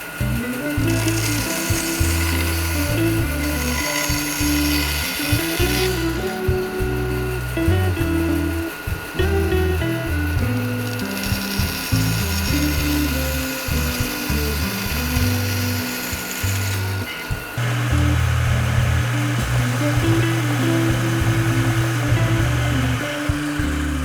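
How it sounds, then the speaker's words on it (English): A power tool sands the ends of a very large wooden door, a loud continuous grinding drone with shifting pitch and brief interruptions throughout, close by. "Just give these ends a little bit of a sand, just to take the sharp edges off."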